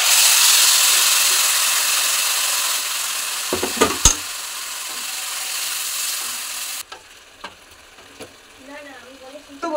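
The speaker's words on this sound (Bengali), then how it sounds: "চিকেনটাকে কত সুন্দর কষিয়ে নেওয়া হচ্ছে" Spiced chicken pieces fry loudly in hot oil in a pan for a Bengali chicken curry, a steady close sizzle broken by a few scraping stirs, then the frying quiets and faint speech follows.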